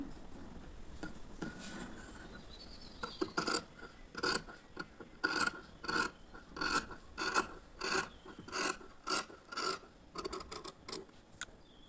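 Scissors cut blouse sleeve fabric on a tailoring table in a rhythmic run of close, crisp snips, starting slowly and then coming in regular rapid bursts, with no talking.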